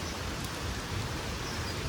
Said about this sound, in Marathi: पाऊस खूप जोरात आहे